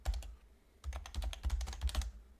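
Parameters typed on a computer keyboard: a quick burst of keystrokes, a brief pause, then a denser run of rapid clicky taps, close and fairly quiet, with no talking.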